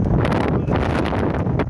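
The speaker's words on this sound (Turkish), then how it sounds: "Aşırı rüzgar, aşırı fırtına." Strong stormy wind during a forest fire in a Black Sea village in Turkey roars and buffets the microphone in a continuous loud rush, with gusts surging and easing briefly.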